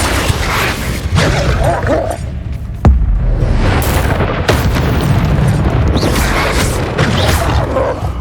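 Confringo blasting spells burst during loud Hogwarts Legacy combat, with a sharp explosive crack near three seconds and another near four and a half, over a dense, continuous din of game effects.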